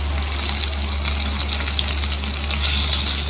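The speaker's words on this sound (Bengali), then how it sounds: "একটু হালকা ভেজে নেব বেগুনটা বেশ উল্টে পাল্টে ভাজা হয়ে গেছে" Eggplant frying in oil in a pan, a loud continuous close-up sizzle with a steady hiss and fine crackling, no voices.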